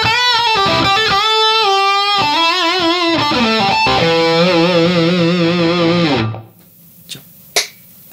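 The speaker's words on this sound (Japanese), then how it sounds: "じゃあ歪みでやってみます。" A Yamaha Revstar electric guitar plays a loud, sustained distorted phrase of chords and single notes, then the last note cuts off into near silence broken by two short clicks.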